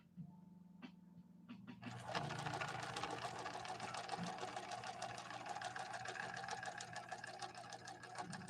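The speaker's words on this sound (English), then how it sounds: "I'm just sewing all over the place." A 1966 Husqvarna Viking 19E Special sewing machine starts up after a few quiet clicks and then stitches steadily, a close, continuous rapid mechanical whir with a fine rhythmic ticking.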